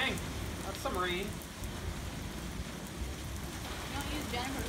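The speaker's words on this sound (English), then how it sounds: "Dang, that's some rain." Heavy rain pours steadily in a dense, hissing wash, with brief voices and shouts breaking through the downpour.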